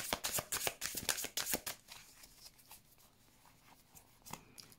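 Tarot cards are riffled and shuffled close by in a quick run of crisp flicks, then the handling settles into quieter soft rustling, with one more faint snap near the end.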